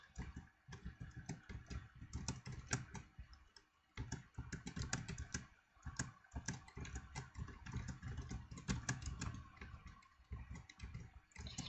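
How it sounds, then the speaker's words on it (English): Frantic key mashing on a computer keyboard during a game of parkour, dense bursts of loud clattering keystrokes with brief pauses, close and alone without talk. "You can just hear me absolutely mashing my keyboard to achieve not very impressive results."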